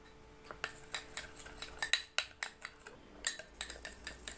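A spoon stirs ginger juice and Colgate toothpaste together in a bowl, giving repeated quiet clinks and scrapes of metal against the bowl in an uneven, roughly steady rhythm.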